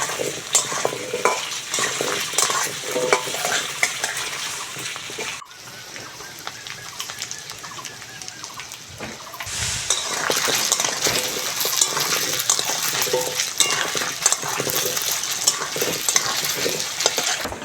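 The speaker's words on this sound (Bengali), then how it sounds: "কচুটা ভালো করে ভাজবো" Taro pieces frying in a pan for a rustic village fish curry, a steady close sizzle with stirring and scraping throughout, dipping briefly quieter partway before the hiss swells again.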